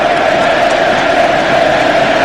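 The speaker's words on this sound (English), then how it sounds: "the Argentinian crowd shout Messi, Messi" A large Argentinian football crowd in a stadium at Argentina vs Mexico, roaring and chanting Messi's name in one loud, continuous, massed wash of voices heard from a distance.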